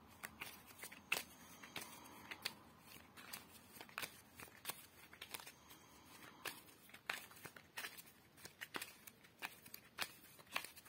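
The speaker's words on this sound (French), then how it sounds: "Là, on fait le tirage pour Kamala Harris." Tarot cards being shuffled for a reading, soft close riffles and slides with papery snaps and irregular taps, fairly quiet and unhurried, with no talking.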